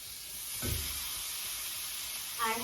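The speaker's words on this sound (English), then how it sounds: "So let's put our watermelon in this skillet." Watermelon pieces drop into a hot skillet and hiss, a steady sizzle with a brief louder burst near the start and another flare at the end.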